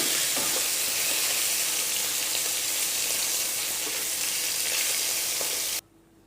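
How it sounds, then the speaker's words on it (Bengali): Prawns frying in hot oil for a Bengali prawn bhuna give a loud, steady sizzle and crackle that runs unbroken and then cuts off abruptly just before the end. "দেখতে পাচ্ছেন আমার মাছটা ভাজা হয়ে গেছে সুন্দর মতো।"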